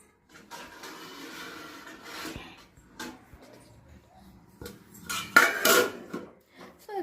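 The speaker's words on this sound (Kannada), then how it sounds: "ಸೊ ಇದ್ರ ಮೇಲೆ ನಾನು ಒಂದು ಪ್ಲೇಟ್ನ ಕವರ್ ಮಾಡ್ತಾ ಇದ್ದೀನಿ." A plate set down as a lid on a kadai on a home kitchen stove, giving a few close metallic clinks and scrapes with a louder clatter near the end, while quiet rustling continues between the knocks.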